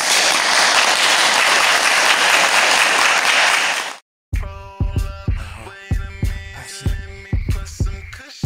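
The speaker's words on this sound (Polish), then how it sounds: "Wielkie brawa." Audience applause at a boxing seminar: about four seconds of dense, loud, continuous clapping that stops abruptly and gives way to rhythmic music.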